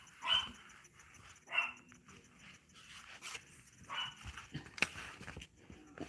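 Dogs barking in a home, several separate bursts of barks at moderate distance with quieter whimpering sounds and room noise between them, no one talking.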